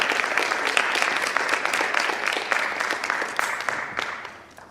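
An audience at a poetry slam claps in a sustained round of applause, many hands at once, fairly loud and even before tapering off toward the end.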